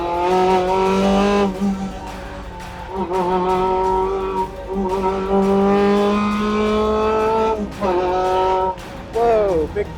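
Race car driving on a wet track with standing water, engine tone rising and falling through repeated gear changes and revving, loud and close as if from the cockpit.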